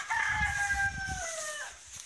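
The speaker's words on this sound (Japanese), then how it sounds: "オスのニワトリくん。" A rooster crows once, a long falling call that is loud and close, with scratchy rustling beneath it.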